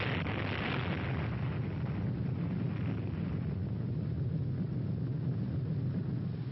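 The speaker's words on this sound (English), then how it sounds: "In just a moment, you will see 2 views of the atomic bomb explosion taken from the observer ships approximately 20 miles from Bikini Lagoon" An atomic bomb explosion from the Operation Crossroads test at Bikini Lagoon, recorded from observer ships about 20 miles away, comes through as a steady, heavy, distant rumble that sustains without pause.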